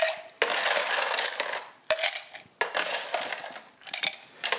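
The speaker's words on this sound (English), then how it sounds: "So to that we'll add a little bit of ice." Ice cubes tumble into a Boston cocktail shaker in several loud, clattering pours, each sharp crash followed by rattling that settles before the next scoop.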